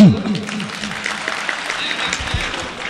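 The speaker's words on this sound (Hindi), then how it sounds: "एक मरतबा तालियां बजा दोस्तों" An audience at a mushaira poetry recital in Amravati breaks into applause after the poet's call, a moderate crowd clapping that continues steadily after a brief voice at the start.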